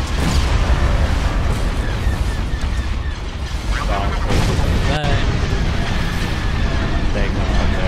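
Weapons open fire in the Star Wars Empire at War strategy game, a dense barrage of booms and blasts over continuous battle rumble, with a short sharp crack in the middle.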